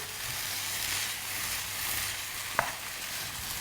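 Tomato-style puree goes into a hot pan of browning beef for stew, giving a steady close sizzle and fry with one brief clack from the spoon partway through.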